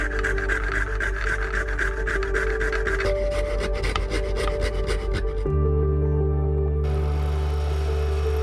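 Steady, close rasping strokes of sandpaper rubbing a thuja wood knife handle, continuous and fairly loud, with a low hum underneath and a tonal shift partway through.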